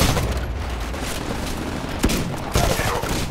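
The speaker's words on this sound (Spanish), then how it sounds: "Ah, mierda, está disparando" Gunfire in the Titanfall video game, a dense rattling fusillade with a few sharper booming shots near the end, loud and continuous throughout.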